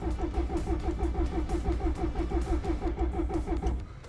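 A Subaru WRX drag car that sat for 15 years, its engine idling with a rapid, even pulsing chug, close and steady throughout without talk.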